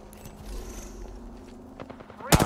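Video game gunfire in Broken Moon, rapid shots crackling at a steady pace with a louder, sharp burst near the end.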